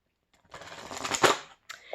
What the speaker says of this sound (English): what I do is just shuffle these and then I break them